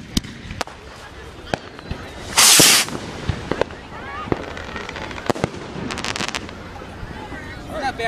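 Fireworks rockets pop and crack outdoors in a string of sharp bangs with one loud hissing burst, heard at moderate distance amid wind and people talking.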